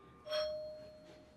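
A front door doorbell rings once at moderate volume, a bright struck chime tone that lingers and fades, with faint room noise and a softer second tone near the end.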